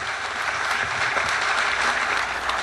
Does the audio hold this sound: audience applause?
yes